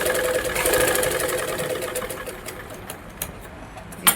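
A sewing machine stitches a cross piece onto a blouse neck, a close whirring run that fades after a couple of seconds into light ticks and clicks.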